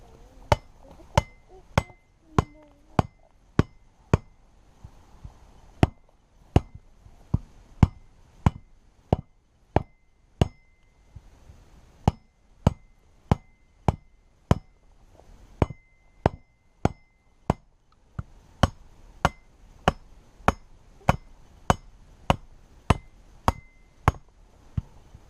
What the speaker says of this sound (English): so we'll continue batoning